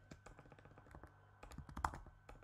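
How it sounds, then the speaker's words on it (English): Quiet, rapid keyboard typing, a fast irregular patter of clicks with a brief pause midway. "I'm terrible at typing"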